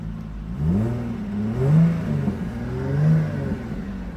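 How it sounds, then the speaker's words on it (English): A 2015 Jaguar F-Type S with its sport exhaust open revs up three times in smooth rising swells. The engine is close and loud, with no talking. "you've got the sport exhaust, which go ahead and open."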